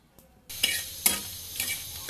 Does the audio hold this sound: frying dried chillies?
yes